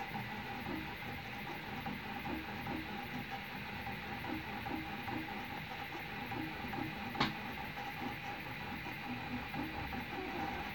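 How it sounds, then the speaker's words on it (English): Stock cooling fan on a Prusa i3 MK2S 3D printer runs loud and steady, a constant whirring drone throughout with one brief sharp click partway in; no one speaks. "the cooling fan, because that fan's really loud"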